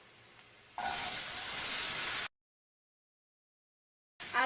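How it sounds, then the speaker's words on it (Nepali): Potatoes hit a pan of hot oil with chopped garlic and burst into a loud hissing sizzle, steady for a second or two before a cut to silence, then the frying hiss returns briefly. "2 मिनट आलुलाई यत्तिकै भुटिरहौ, नछोपिकन।"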